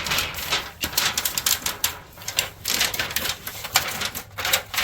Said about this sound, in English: Take your roller and just roll it.